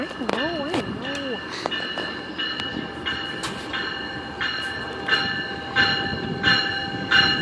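Subway train at Danforth station, eastbound platform, with steady rail rumble and tonal motor whine throughout, brief squeals near the start, and voices speaking over it.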